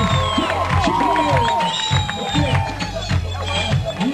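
A live concert crowd at Miami Beach cheers and applauds loudly and continuously, with shouting voices and music-like tones mixed into the dense roar.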